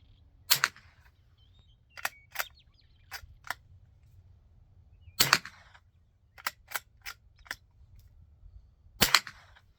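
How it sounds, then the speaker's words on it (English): Sharp, sparse .22 rifle shots from a Sears J.C. Higgins Model 43DL, a dozen or so cracks spaced irregularly, some in quick pairs, fairly quiet and dry with brief tails over a low background rumble. "this is very quiet shooting"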